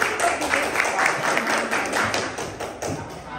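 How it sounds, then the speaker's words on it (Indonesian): Pupils in a physics class clapping for a group after its presentation, a fairly soft patter of many hands that swells and fades over a few seconds, with faint voices mixed in. "Tepuk tangan untuk kelompok dia."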